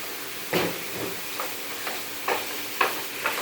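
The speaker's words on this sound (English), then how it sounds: "Our pan is good and hot. We're going to add our ground beef." Ground beef hits a hot pan and sizzles, a steady hissing fry broken by several sharp spatters and stirring scrapes spaced about half a second apart, close and clear with no talk.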